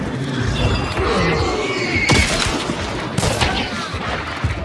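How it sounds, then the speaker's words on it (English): Gunshot in a loud, busy outdoor scene, with sharp broadband cracks near 2.1 and 3.2 seconds standing out over constant noise and some background voices. "A shot."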